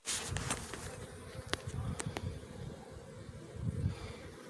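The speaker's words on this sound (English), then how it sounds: "this box is loaded with bees from the bottom to the top" Honey bees buzz in a dense, steady drone inside a double-deep hive box packed with bees and brood during an inspection, heard up close with a few brief sharp knocks and no talking.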